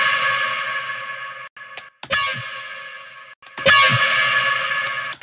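FM synth bass stabs ring out with heavy reverb and echo tails, a few sharp soft-clipped distorted hits spaced apart, loud and alone.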